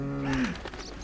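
A cow in The Witcher video game gives a single short, low moo that bends downward in pitch, heard close and clear.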